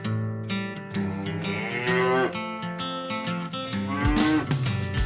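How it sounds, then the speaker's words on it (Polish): A cow on a farm moos in a children's educational cartoon, a drawn-out lowing call set against bright, busy background music throughout. "Krowa muczy."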